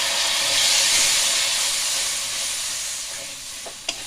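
Spice paste sizzles loudly in a pan after a splash of water, a broad steady hiss that eases off slowly, ending with a couple of small clicks of a utensil.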